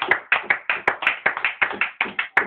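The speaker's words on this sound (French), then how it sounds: "On acclame très bien pour le Seigneur Jésus." A church congregation claps in praise of the Lord Jesus, a steady run of about a dozen sharp, loud handclaps in a brisk, even rhythm, close and with no talking.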